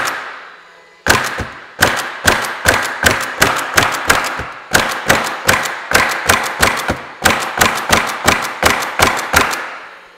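DeWalt 20V battery-powered cordless coil roofing nailer driving nails into shingles, a long run of sharp, evenly spaced thumping shots, about two per second with brief pauses, loud and close with no talk.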